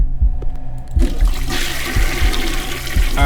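A toilet flushes loudly and close in a Thai haunted gas-station horror game, a rushing gurgling torrent of water swirling and draining over a few seconds.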